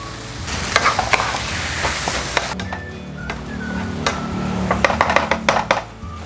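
Crab sticks and celery stir-fry in curry powder in a hot pan, a steady close sizzle broken by repeated scraping and clinking from a spatula stirring against the pan.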